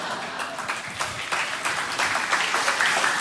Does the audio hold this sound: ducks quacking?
no